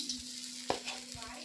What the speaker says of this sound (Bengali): বাকি মাছটাকেও আমি একইভাবে ভেজে নেব। তেলটাকে ভালো করে গরম করে নেব।